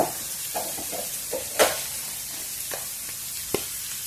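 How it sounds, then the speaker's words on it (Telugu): Onions, green chillies and tomato fry in a pan with a steady soft sizzle, broken by a few light stirring scrapes and taps, close by with no talking. "టమోటా కూడా వేసి కొంచెం కలర్ వచ్చేంత వరకు వేయించుకున్నాము."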